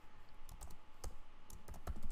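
Quiet typing on a computer keyboard, a string of light, irregular key clicks close to the microphone that grows slightly busier toward the end.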